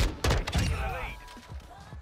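Firework tracer rounds in the Warzone DMZ video game fire and burst on impact, several sharp, punchy bangs in quick succession followed by softer popping thuds as the echoes fade.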